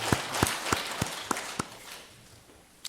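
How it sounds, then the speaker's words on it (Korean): Congregation applauding during a Sunday worship service, with a run of evenly spaced, sharp claps in steady rhythm over a broad wash of hands that thins and fades out. "하나님께 영광의 박수를 드립니다."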